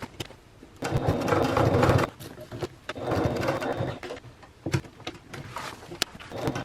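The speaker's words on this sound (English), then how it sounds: "let's go back to the sewing machine, and we're going to finish our top stitching around all three sides of the zipper window" A sewing machine runs in two sustained bursts while top stitching around three sides of a zipper window on a travel bag, with softer handling noises in the pauses between runs.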